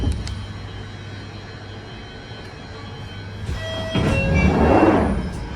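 London Underground train at Morden station, a close rumble with a hiss and sliding thump as the doors shut on both sides, then the carriage humming louder in a busy station.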